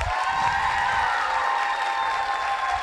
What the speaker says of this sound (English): please clap if you liked contestant number 1's fake orgasm